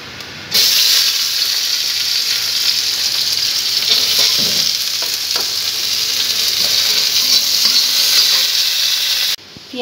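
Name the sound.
onions frying in oil in a wok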